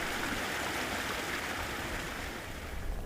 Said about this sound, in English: It's frozen now, of course, but water keeps trickling through, keeps the mosses green